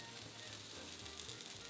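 A sandwich frying in browning butter in a pan gives a steady, even sizzle that runs close and constant, with a low hum underneath and no talking.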